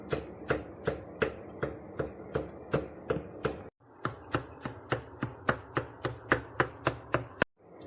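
Knife chopping fresh coriander leaves on a cutting board, a fast steady run of sharp close thuds about two per second, briefly pausing midway and then resuming.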